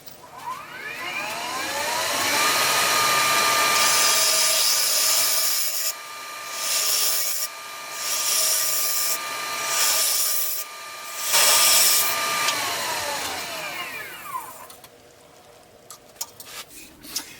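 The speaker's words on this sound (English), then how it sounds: "I'm just going to use my bowl gouge to kind of scrape away" Wood spinning on a lathe while a bowl gouge scrapes it to shape a plug, producing a loud sustained whirring rasp that rises, wavers with each pass of the tool and eases off as the lathe spins down near the end.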